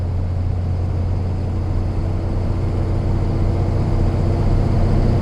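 A 5.9 Cummins diesel truck fitted with an S&B intake drives along at light boost, its engine a steady, loud low drone with a faint whistle barely showing through, no talking.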